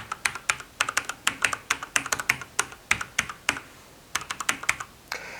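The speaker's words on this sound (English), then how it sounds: "The mechanical keyboard also has a really nice feel to it. It has a nicer sound to it." Typing on a mechanical keyboard, a rapid run of sharp clacky keystrokes in uneven bursts, close and clear with no talking.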